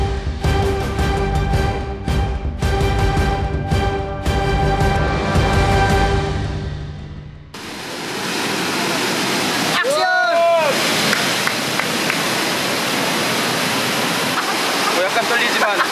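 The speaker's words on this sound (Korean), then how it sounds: "출발은 마뚜띠나오 강을 따라 흐르는 계곡 입구에서 시작합니다." Rushing water of the Matutinao River flowing through a valley canyon in Cebu, a steady broadband roar that fills the scene, preceded by a stretch of music and joined later by a brief voice.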